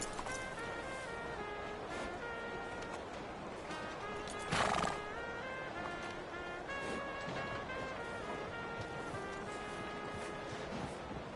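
Horse in the video game Red Dead Redemption 2 giving a loud, close whinny around the middle, with steady clip-clop of hooves running throughout over a busy game ambience.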